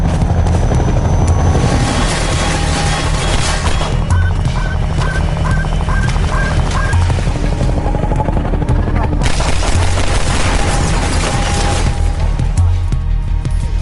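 Helicopter attack in the Mirror's Edge video game: a loud, continuous helicopter rotor drone with steady low thumping runs throughout, with game effects and brief tonal beeps layered over it.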